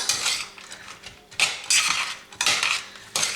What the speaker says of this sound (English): I'm going to mix all of these ingredients together